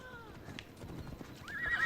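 Horse hooves clopping and a short whinny in the video game Assassin's Creed Odyssey, brief and fairly quiet, mixed with light background game sounds.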